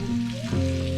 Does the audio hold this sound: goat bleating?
no